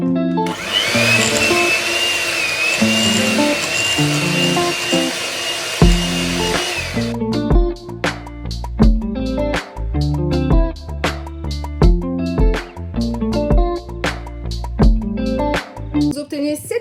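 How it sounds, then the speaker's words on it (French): Electric hand mixer with whisk beaters beating mascarpone and cream into chantilly, a loud steady whir for several seconds, then rhythmic clattering knocks of the beaters against the bowl continuing throughout. "à l'aide du fouet, batteur, je vais battre la crème jusqu'à qu'elle monte et qu'elle devienne une chantilly"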